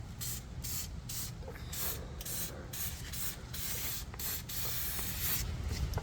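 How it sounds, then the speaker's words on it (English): Protective undercoating sprayed onto the body of a 1997 Chevy K1500 extended cab truck: a close, loud aerosol hiss delivered in a string of short, rhythmic bursts with brief gaps between them. "Now we'll put our NHOU protective undercoating on here."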